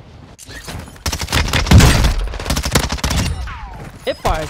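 A Lachmann Shroud gun fires in a shooter game in rapid automatic bursts of sharp, loud shots, close and dense, broken by short gaps, with players talking over the firing.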